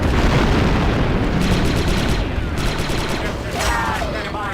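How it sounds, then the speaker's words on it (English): In Star Wars Republic Commando, a demolition charge detonates on a battlefield amid rattling bursts of blaster-like gunfire, a steady loud barrage of cracks and booms with a brief swooping whine near the end. "The charge is set and ready to detonate."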